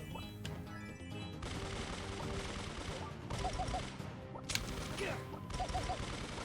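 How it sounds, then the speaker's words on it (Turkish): Gunfire in the Brawl Stars video game, a dense steady barrage of shots with clattering impacts and small crashes running through the whole stretch, with game music underneath and no one talking. "Boşuna mermi atıyorsun şu anda"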